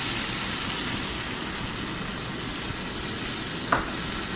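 Prawn malai curry bubbles and sizzles steadily in a pan after litchi milk is stirred in, a close continuous simmer with one small clink near the end.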